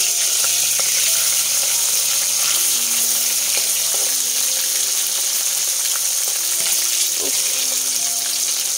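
Hilsa fish frying in hot oil, a loud continuous sizzle and hiss that fills the whole stretch, with faint kitchen clatter and talk underneath.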